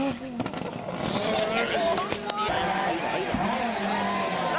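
Group B rally cars racing past, engines revving loudly with shifting pitch and brief tire squeal, a steady roar lasting several seconds with a person talking over it.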